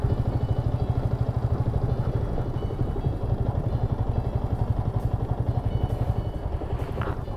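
A motorcycle rumbles steadily while being ridden along a road near plots and villas in Gaur Yamuna City on the Yamuna Expressway, Greater Noida, its engine pulsing evenly and loud up close with wind noise and no talking.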